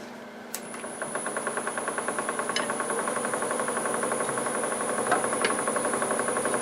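A wood lathe spins a maple burl at about 700 RPM while a 5/8 bowl gouge cuts it, giving a steady hum with a fast, regular ticking chatter as the uneven wood meets the tool.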